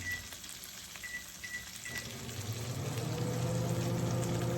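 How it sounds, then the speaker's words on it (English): Food frying in butter in a pan, a steady sizzle that builds and grows louder over a few seconds, close up with no talk. "I'm going to let this fry just a little bit."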